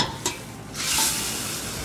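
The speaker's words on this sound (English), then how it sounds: "so this I'm going to just add to my pressure cooker now." Curried conch meat tipped into a large pressure cooker gives a short clatter, then a soft sizzle and stirring rustle close by, with no talk.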